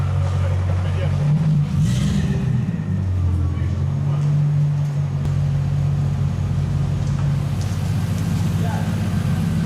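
A car drives slowly up onto a car transporter truck, its engine a steady low hum heard nearby, with people talking over it.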